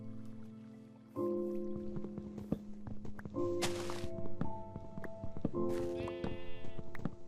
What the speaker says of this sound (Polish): Owce słyszę.